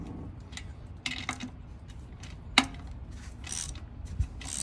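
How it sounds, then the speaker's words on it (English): A lug stud is seated into the wheel hub of a first-generation Nissan Xterra. Scattered metallic clicks, ticks and scrapes come close and fairly quiet, with one sharp clink standing out. "right now I'm seating that lug stud"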